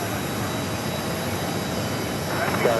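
Aircraft push back from the gates at Phoenix Sky Harbor airport, heard as a steady, loud, broad rumble and hiss of engines that holds constant throughout.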